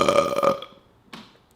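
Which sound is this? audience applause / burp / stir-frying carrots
burp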